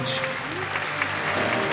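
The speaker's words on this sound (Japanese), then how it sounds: "拍手でお迎えください" An Olympic concert audience applauds to welcome a Paris 2024 track and field medalist onstage, with steady, dense clapping under an announcer's voice.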